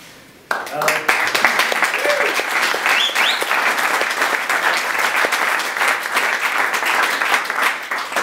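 Audience applause at a panel discussion on European entrepreneurship bursts in suddenly after a quiet start and holds loud and dense, with a few whoops and voices rising from the crowd.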